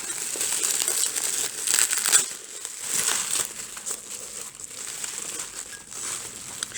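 Gift wrapping paper crinkles and tears nearby as a Halloween present package is unwrapped, a steady rustling that swells and fades in loud bursts, with no voices.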